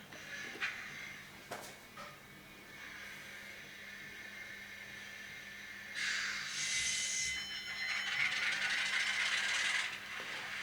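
Arnold model of a RENFE 1800 locomotive fitted with a Doehler & Haass sound decoder, starting its engine: a few mechanical clicks, then a steady synthesized engine drone building after about six seconds, moderately loud with no talk.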